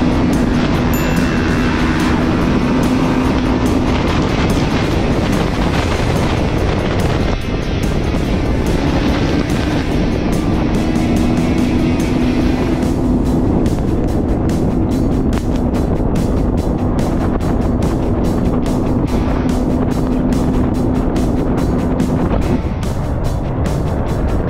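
Enduro motorcycles accelerate in a beach race at the Enduropale du Touquet, a dense, continuous roar of many engines with strong wind buffeting on the microphone and no break throughout.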